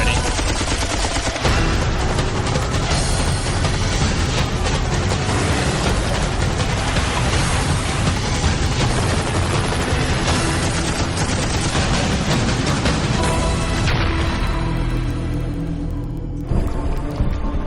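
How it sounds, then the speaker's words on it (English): Rapid volleys of warning gunfire aimed at Somali pirates from a ship in the Gulf of Aden, loud, dense automatic bursts running almost without pause. "Warning shots out,"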